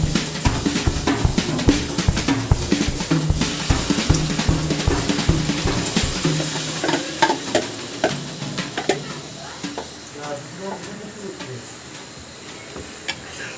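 Lentils and prawns sizzle steadily in a pan while a utensil scrapes and taps through them. The frying is dense and close at first, then thins to quieter crackles and occasional clicks.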